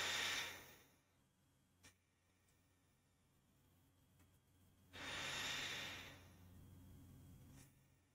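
Slow, deep breathing imitating a sleeping person, two long soft airy breaths several seconds apart, close and quiet in an otherwise still room.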